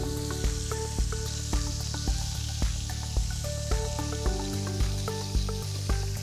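Patagonian shrimps fry in hot oil with a steady broad sizzle, while regular soft knocks and clinks of utensils and a low background hum recur about once a second throughout.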